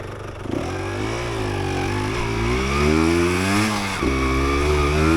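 A 1988 Yamaha DT200 motorcycle on a test ride in third gear revs up loud and close, its pitch climbing, dipping briefly with a gear change, then rising and holding a strained buzzing drone.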